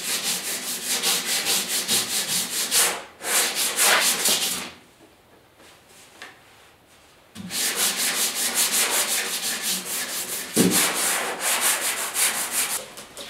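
Sanding primer on the hood of a 1972 Ford 4x4 shorty pickup by hand with 150-grit paper: close, brisk rhythmic scratching strokes in two long bursts separated by a quiet pause of a couple of seconds.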